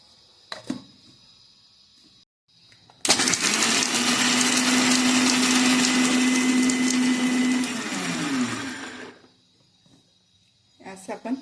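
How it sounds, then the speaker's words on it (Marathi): A mixer grinder whirs loudly for several seconds grinding ghee-roasted peanuts, a steady high-pitched motor roar that starts abruptly and winds down, with brief clatter before and after. "शेंगदाणे तुपात भाजलं होतं ते पण मिक्सरच्या भांड्यातून बारीक करून घेऊया"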